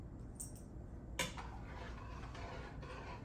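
A spoon stirs rice in a cooking pot, giving one clear metallic clink followed by soft, faint scraping in a quiet room.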